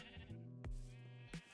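Sheep bleating in the video game Minecraft, a few wavering bleats in close succession, clear and alone with no talk.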